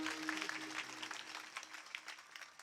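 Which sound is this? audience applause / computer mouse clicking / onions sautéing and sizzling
audience applause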